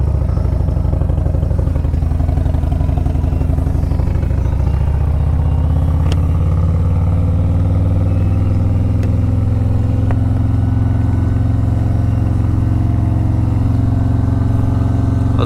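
A Harley-Davidson Road Glide motorcycle rides along a dirt road in a constant, loud, deep rumble; the engine note settles lower partway through, with wind and faint clatter.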